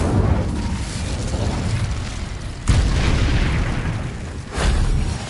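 An Incendio fire spell cast in Hogwarts Legacy, heard as two loud whooshing, booming bursts about two seconds apart over a continuous roaring rush of flame.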